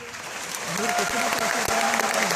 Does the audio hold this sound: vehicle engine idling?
no